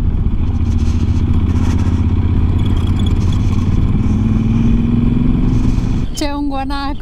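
A heavily loaded motorcycle rattles over a corrugated road, its engine droning loud and steady under constant clattering vibration. A short high-pitched squeal comes near the end.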